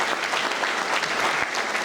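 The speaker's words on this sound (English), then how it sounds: "Give Sam a round of applause." Brief burst of audience applause for Assemblyman Sam Berger at a congressional campaign kickoff, a steady crowd of clapping hands, close and even throughout.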